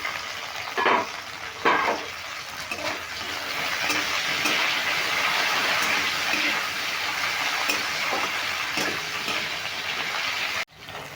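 Pumpkin and carrot frying in a pan under a lid, a constant broad sizzle with a couple of soft knocks near the start and a sharp clatter near the end, close and continuous with no talk.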